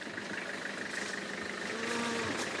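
Cows on a farm low with a long, drawn moo that rises and falls, heard over steady background noise and a faint engine hum.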